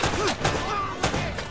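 Gunfire from Uncharted: Drake's Fortune on PS3, a few loud, sharp shots in quick succession with thumping echoes, heard alone without talk.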